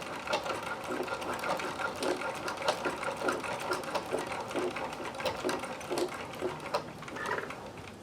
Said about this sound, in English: I'm sewing through the double thickness of elastic at the moment